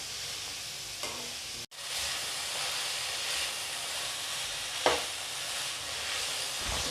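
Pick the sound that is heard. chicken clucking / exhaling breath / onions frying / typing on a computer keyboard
onions frying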